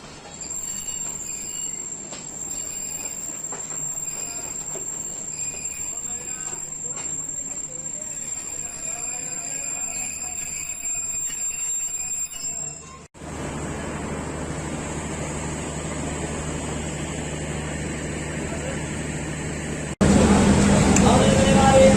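Steady rumble and rattle of a Pakistan Railways Tezgam coach rolling into a station, with faint wheel squeal and background chatter, the noise swelling louder near the end.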